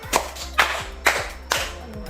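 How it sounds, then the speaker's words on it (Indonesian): A classroom group of children clapping together four times in a row, sharp, evenly spaced claps with a short ring after each, close by. "Tepuk empat."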